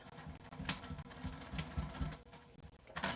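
Home sewing machine stitching a True Bias Salida skirt, close and quiet, with bursts of rapid needle clatter separated by brief pauses and light handling noise.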